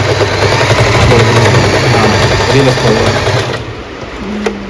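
An Usha Wonder Stitch Plus electric sewing machine stitches with a steady, loud motor whir for about three and a half seconds, then stops. A faint low hum remains afterward.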